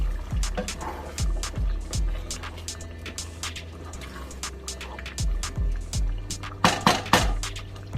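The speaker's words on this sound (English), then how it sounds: "Let me stir it." Bean stew is stirred in a pot on the stove, with soft thick liquid sloshes and low scraping thumps at irregular intervals and a few sharper clinks of the spoon near the end.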